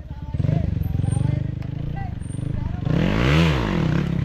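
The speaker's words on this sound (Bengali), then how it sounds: "হালকা একটু ড্রিফটিং করলে চাকা ঠিক হয়ে যাবে" A stunt motorcycle drifting to warm its tyre on a road in Rangamati, a steady engine drone rising into a louder revving surge near the end, with voices talking over it.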